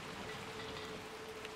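Steady rain falls in the Little Nightmares 2 game, a dense continuous hiss of drops on surfaces, close and even throughout the short stretch with no speech.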